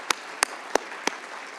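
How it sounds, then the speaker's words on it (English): Four separate claps ring out for four law students at a judicial education lecture, each a sharp, isolated hit spaced about a third of a second apart against a quiet hall, sounding more like a few individual claps than full applause. "Let's have a round of applause for them."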